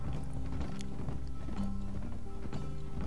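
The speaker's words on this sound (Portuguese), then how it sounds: "20 a 30 minutos só andando de cavalo, até chegar na missão" Horse hooves clip-clop at a steady walking rhythm while riding through a video game, with a faint whinny and soft game ambience underneath.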